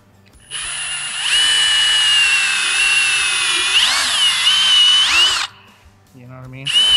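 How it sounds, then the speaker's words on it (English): A power drill bores into a work boot, a loud steady whine held for about five seconds with a brief pitch dip midway, then cutting off, followed by a short burst of voice. "You could put a smaller drill bit in"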